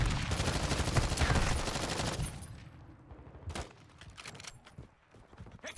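Rapid gunfire rattles loud and continuous in Call of Duty: Modern Warfare 2, followed by sharper, scattered single shots and quieter moments.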